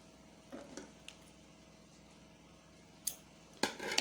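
Snips of cutting excess matchstick wood while crafting a matchstick tea cup: a soft cut near the start and two sharper clicks toward the end, close and quiet, with no talk.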